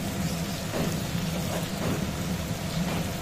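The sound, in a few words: potatoes frying in a pan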